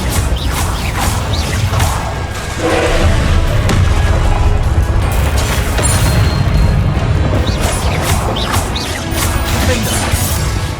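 Incendio fire spell bursts in the Hogwarts Legacy video game, loud and close, with smashing, crashing impacts and whooshes layered over dense continuous battle noise for the full stretch.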